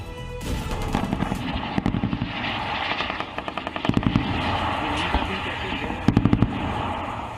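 Indian army guns fire during a military exercise on a desert firing range, a loud barrage of rapid repeated blasts in bursts over a continuous rumble.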